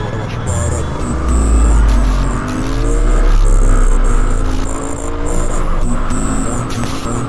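Royal Enfield Bear 650 motorcycle engine on a ride, a steady low throbbing hum that swells and eases through shifts and downshifts, with wind noise and a rider talking over it.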